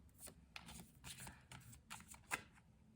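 Tarot cards being shuffled in a series of quick riffling bursts, soft and close, with brief pauses between and a sharper snap near the end.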